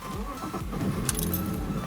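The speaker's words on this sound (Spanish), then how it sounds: "Si arrancamos el coche, vamos a arrancarlo." BMW E46 car engine cranking and catching, then settling into a rough, unsteady idle close by, with a brief metallic jingle of keys near the start.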